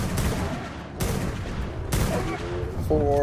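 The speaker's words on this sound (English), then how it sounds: "That's one cool thing about the rifle, is just like, it does so much, it fires so fast." Rifle fire in ARK: Survival Evolved, sharp rapid gunshots cracking out at about one-second intervals, loud and close, with a player talking briefly underneath.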